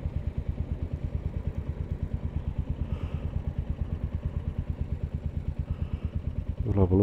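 Single-cylinder engine of a Royal Enfield Hunter motorcycle thrumming steadily while riding alongside on the road, a close, continuous rhythmic pulse with wind rush and a brief rise in engine noise near the end.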